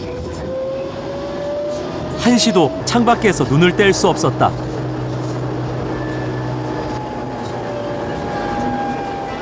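A rail vehicle rumbles steadily through a city, with a brief burst of rhythmic clatter midway and a voice speaking over the running noise.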